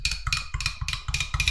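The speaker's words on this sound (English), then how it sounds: "what you're hearing now is my protein shake" A protein shake is shaken hard in a plastic shaker bottle, giving six even, rhythmic sloshing rattles, loud and close.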